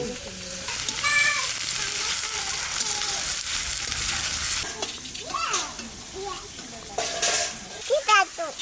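Sliced onions go into hot oil already holding cumin, bay leaf and dried chilli, giving a steady close sizzle with stirring scrapes, while a voice and faint animal-like calls drift in the background.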